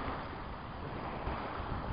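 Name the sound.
wind blowing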